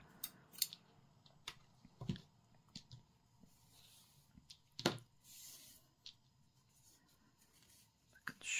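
Scissors snip crochet yarn in a quiet room, giving a few sharp, close clicks spread out over several seconds.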